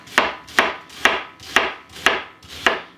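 A knife slices through a head of cabbage for sauerkraut, six crisp, evenly spaced cuts landing about every half second, close and clear with no talking.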